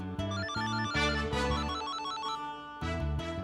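A phone ringtone plays a bright, repeating melodic pattern, loud and close, pausing briefly before starting again.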